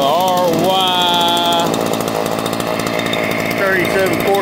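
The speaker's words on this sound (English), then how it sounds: "Ryobi. 14-inch chainsaw." A Ryobi RY3714 14-inch gas chainsaw runs loud and continuously, its steady engine drone rising and falling in pitch as it works, with voices faintly present beneath the noise.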